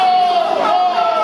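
A crowd of children shouts together in one loud, sustained, ringing cry of a single word, with voices blended into a continuous chorus.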